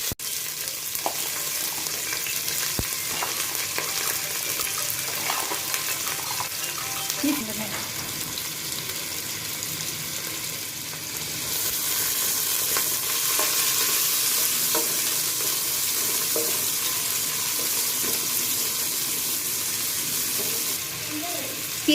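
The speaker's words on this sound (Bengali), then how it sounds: "পেঁয়াজটাকে এখন আমরা বাদামি করে কিছুক্ষণ ভেজে নিব" Chopped onion fries in a pan with bay leaf, cinnamon and cardamom, a loud continuous sizzle that swells partway through, with scraping stirring strokes and occasional clinks throughout.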